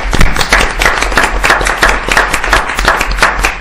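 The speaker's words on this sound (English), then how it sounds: "let's give him a round of applause" Close, loud clapping from a board meeting audience, sharp individual hand claps in a quick uneven rhythm throughout, with no speech.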